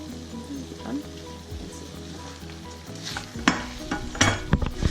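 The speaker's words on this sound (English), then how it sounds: "So now we're going to add the mushrooms." Porcini mushrooms added to a pan of risotto with peas, sizzling and frying while a spoon stirs and scrapes, with irregular close clatter growing busier toward the end, no talk over it.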